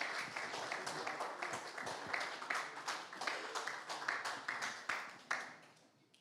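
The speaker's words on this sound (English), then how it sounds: "we're also going to give a big warm amount of applause here for Peyton and Nola" Audience at a Latin Living Legends awards ceremony applauds with steady, dense clapping that swells and pulses for several seconds, then tapers off near the end.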